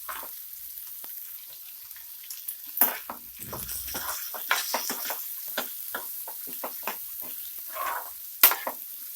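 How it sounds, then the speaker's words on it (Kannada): Guntur chillies fry in hot oil in a pan for an avarekai masala sambar: a steady close crackling sizzle with scattered sharp pops and a couple of louder metallic clinks from the pan. "ಈಗ ಗುಂಟೂರು ಮೆಣಸಿನ್ಕಾಯಿ ಹಾಕ್ಕೊಂಡು ಫ್ರೈ ಮಾಡ್ಕೊಳ್ಳಿ. ಅದನ್ನು 1 ನಿಮಿಷ ಫ್ರೈ ಮಾಡ್ಕೊಳ್ಳಿ ಎಣ್ಣೆಯಲ್ಲಿ ಚೆನ್ನಾಗಿ."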